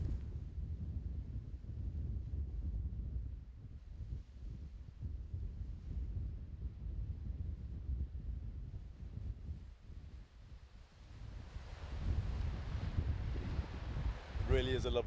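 Breezy wind blows outdoors on a Dorset clifftop walk, buffeting the microphone in fluctuating gusts, fairly faint overall and rising toward the end.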